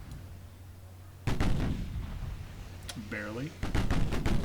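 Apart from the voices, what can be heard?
7-inch naval guns firing in video game Ultimate Admiral Dreadnoughts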